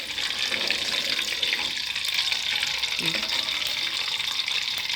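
Steady, loud hiss and crackle of fish frying in hot oil, continuous throughout, with a faint clink of a utensil partway through.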